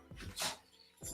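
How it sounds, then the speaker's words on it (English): Dogs in a home nearby giving short excited yips and a whimpering bark, two quick bursts separated by a brief pause, fairly faint. "My dogs sound excited."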